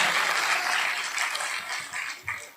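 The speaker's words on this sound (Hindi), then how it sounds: "4-5 अच्छे लोग ताली बजा दो" An audience at a Hindi comedy or poetry stage show claps in a steady, dense round of applause. It sounds fairly distant and soft, then thins out toward the end.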